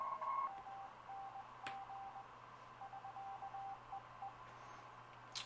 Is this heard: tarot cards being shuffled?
no